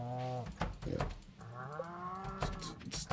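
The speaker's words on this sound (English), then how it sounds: "Silly cow." Cow mooing in the Stardew Valley farming game, several drawn-out harmonic moos in succession, loud and close, with no talking over them.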